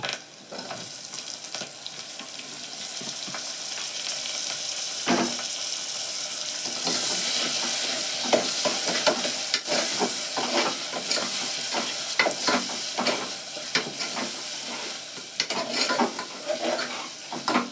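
A close, loud frying hiss comes from tomato and curry leaves cooking in a pan for a masala gravy, broken by frequent spoon scrapes and stirring clatter that get busier partway through. No one speaks.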